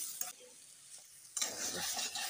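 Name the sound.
stir-frying mixed greens with oil and sugar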